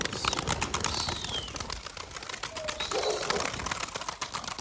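Pigeons taking off after being released by hand, with rapid, close wingbeats clattering in bursts over several seconds and faint bird calls mixed in.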